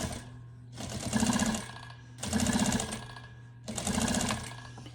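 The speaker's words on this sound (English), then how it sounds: "it's gonna do a top stitch of 1/8 of an inch" A sewing machine top stitching fabric for a quilted iPad holder, running in three steady bursts of rapid mechanical chatter separated by short pauses, close and clear with no talking.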